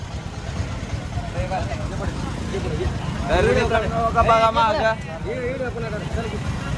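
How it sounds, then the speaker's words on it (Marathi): Heavy road traffic near Ramling Temple in Dharashiv gives a constant low engine rumble underneath, while someone talks loudly over it close by. "भरपूर ट्रॅफिक झालेलं आहे मित्रांनो"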